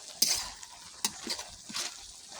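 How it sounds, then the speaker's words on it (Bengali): Malabar spinach stems and leaves with potatoes are sautéed in a pan, a soft sizzle punctuated by a few sharp scraping stirs of a spatula, quiet and close with no talking. "এবার এগুলো হালকা কষিয়ে নেব।"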